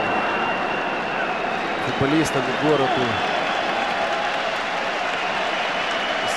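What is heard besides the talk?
stadium spectators applauding in support of Odesa team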